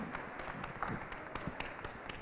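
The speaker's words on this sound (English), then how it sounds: "let's give her a nice round of applause here." Scattered applause from a graduation audience at Sinte Gleska University, faint and distant, with separate claps picking out an uneven rhythm rather than a dense roar.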